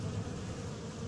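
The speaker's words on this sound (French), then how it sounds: "elles sont super motivées ces petites abeilles" Honey bees buzz steadily through the mesh of an anti-hornet tent, a close, continuous low drone at modest volume with no voices over it.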